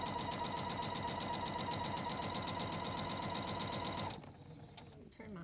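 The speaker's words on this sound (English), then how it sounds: "we're going to sew that. Quarter-inch seam. Make sure your machine is set for an accurate 1/4 inch." A sewing machine runs a quarter-inch seam on bunting, a rapid steady stitching whir held for about four seconds before stopping abruptly, followed by faint handling clicks.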